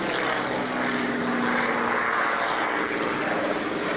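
Propeller aircraft passing at an airshow, a loud sustained engine drone with a throbbing propeller tone, steady and close for the whole stretch, no voices.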